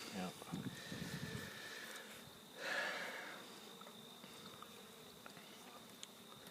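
Honey bees buzz steadily in an open hive while a candy board is set on top for winter feeding, a soft continuous drone under nearby voices.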